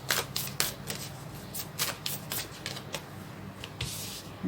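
Tarot cards riffle and slap together in repeated quick bursts during a Cancer reading, close and fairly quiet, with no talking over them.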